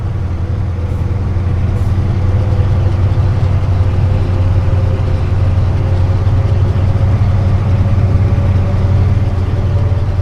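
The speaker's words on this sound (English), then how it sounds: "Just listen to that engine spooling up." A diesel train engine spooling up in Train Simulator on the South Wales Coastal route, a loud, steady low rumble with droning harmonics and no talk.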